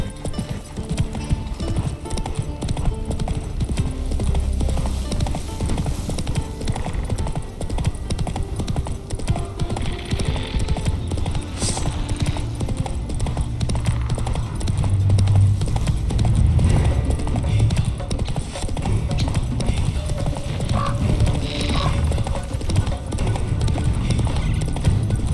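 Roach the horse gallops in The Witcher 3, steady rapid hoofbeats pounding close and loud throughout, with game ambience underneath.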